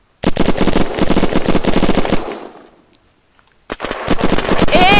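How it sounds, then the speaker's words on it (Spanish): Rapid Colt gunfire in the PVP survival game Unturned: a dense burst of repeated shots for about two seconds, a brief pause, then another fast volley, loud and close. "Le disparo con la Colt."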